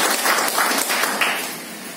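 An audience at an International Women's Day event applauds: a dense patter of many hands clapping, loud at first and then tapering off over about two seconds.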